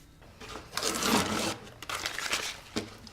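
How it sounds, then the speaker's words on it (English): A cloth rubs finishing oil into a guitar fretboard in several short scrubbing strokes, soft and close with brief pauses between passes. "I'll polish up the fretboard with fretboard finishing oil to make it shine again"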